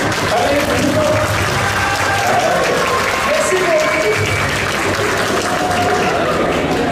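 Crowd at an animal contest at an agricultural show applauds continuously and loudly for the whole stretch, dense clapping with a voice speaking over it.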